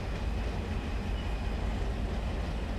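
A freight train pulls out of Malabar in the Run 8 train simulator, heard as a steady, dense low rumble with a faint tonal hum and no voices.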